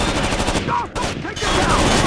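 Dense, continuous automatic gunfire in the Rainbow Six Vegas 2 video game, loud and nearly unbroken with a brief lull midway.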